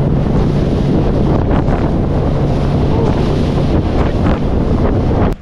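Strong wind buffets the microphone over open water in shallow fishing grounds, a loud, continuous roar with wash and surf underneath. It runs unbroken with no talk.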